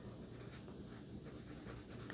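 Coloured pencil shading over a green onion drawing on paper: soft, continuous scratchy strokes, quiet and close, repeating in a gentle back-and-forth rhythm.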